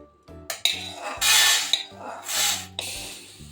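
Roasted wheat grains being scooped out of a pan, with bursts of rustling, scraping grain and clinks of a metal utensil against the pan in uneven strokes, close by.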